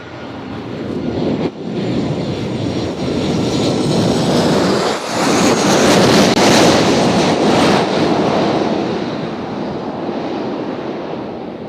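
A Southwest airliner from Cincinnati passes at Nashville International Airport, its engine roar building loud and near, peaking midway, then easing into a broad steady rumble.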